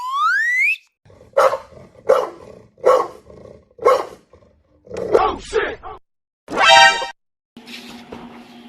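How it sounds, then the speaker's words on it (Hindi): A fierce dog at a house barks again and again in a steady, loud, close run of barks. A brief rising whistle-like tone comes before them, and a longer rough, drawn-out call follows. "तुम्हारे यहाँ इतना भयंकर कुत्ता बैठा है यार"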